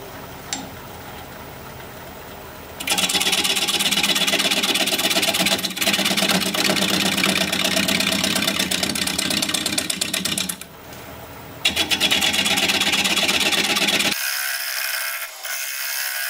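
Wood turning tool being sharpened on a bench grinder: a loud, steady mechanical whir and grinding drone that starts abruptly, runs continuously with a brief dip midway, then cuts out and leaves quieter room noise.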